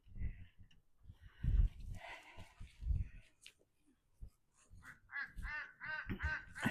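Several ducks quack in bursts, some low and raspy, others higher and rapid, moderately near in an otherwise quiet outdoor setting.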